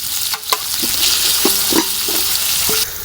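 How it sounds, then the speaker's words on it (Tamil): Ginger garlic paste sizzles and fries in hot oil for mutton biryani with green chillies and mint, a steady loud crackle broken by a few sharp stirring scrapes and clinks of a utensil against the pan. "இஞ்சி பூண்டு நல்லா கலர் மாறுற அளவுக்கு வணங்கியாச்சு."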